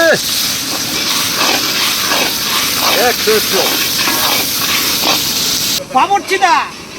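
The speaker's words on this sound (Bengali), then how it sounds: "দেশি পেঁয়াজের পেস্ট দিয়ে দেবো এখন দিয়ে দিলাম পেঁয়াজের পেস্ট" Paste of local onions dropped into a hot pan for a coriander chicken roast gives a loud, continuous close sizzle that cuts off near the end, with people talking over it.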